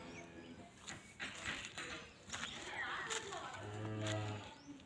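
An HF-breed dairy cow for sale near Coimbatore moos close by in several drawn-out, throaty calls, with faint background noise between them.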